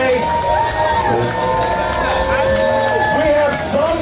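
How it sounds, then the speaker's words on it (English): A crowd cheers, whoops and shouts loudly and continuously at an outdoor burger eating contest, with children shouting and a general hubbub of voices filling the scene. "let's have a round of applause for all of our contestants out here today"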